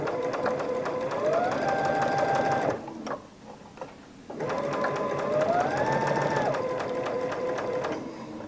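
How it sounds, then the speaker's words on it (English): A sewing machine stitches a headband seam in two steady whirring runs separated by a short pause, the motor pitch rising and levelling off during each run, loud and close with no talking. "always back stitch at the beginning and end of the seam"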